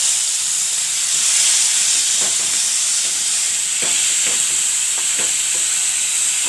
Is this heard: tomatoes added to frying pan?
yes